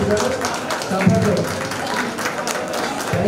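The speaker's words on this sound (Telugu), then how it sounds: "చప్పట్లు" A crowd applauds steadily at a Ganesh festival gathering during a laddu auction in a residential colony, with close, dense clapping and voices over it.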